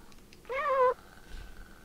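A single clear cat meow from the Fragile Dreams video game, brief and rising, standing alone over faint background ambience.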